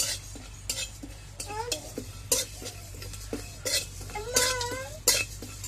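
Whole spices, cumin and panch phoron, dry-roasting in a pan as a spoon scrapes and stirs them in repeated clinking strokes, close and fairly loud, with a faint background hum and some brief voice sounds.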